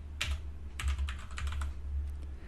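Keystrokes on a computer keyboard come in quick bursts of close, crisp clicks, several short runs of typing with brief pauses between them and no voices.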